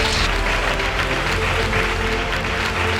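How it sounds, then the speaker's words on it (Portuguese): A church congregation applauds its preacher during a sermon, with a thick, continuous wash of clapping that holds at a constant level under a low hum. "Dê um aplauso a ele, ajuda o pregador"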